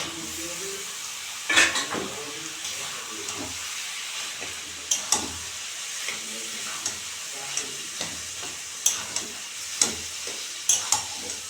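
Boiled taro leaves are stirred into spiced oil in a pan for a prawn dish, a soft sizzle beneath intermittent scrapes and knocks of the spoon against the pan, near and moderate.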